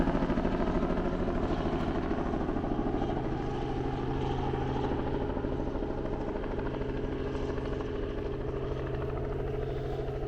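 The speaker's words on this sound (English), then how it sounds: "Helicopter coming in to land." A helicopter coming in to land near an airport, its steady rotor and engine drone loud and continuous throughout with no one talking.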